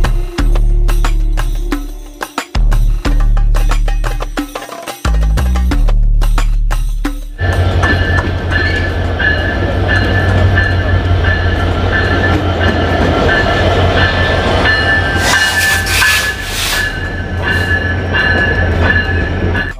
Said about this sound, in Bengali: ওই যে আমাদের ট্রেন চলে আসতেছে।